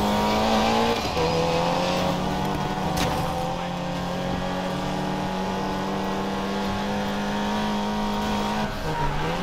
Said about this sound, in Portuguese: Se eu frear, ele faz drift.